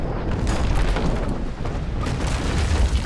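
Naval cannon fire in the Naval Action sailing-warship game: heavy, dense rumbling booms roll on continuously and loud, with distinct blasts around the start and near the two-second mark.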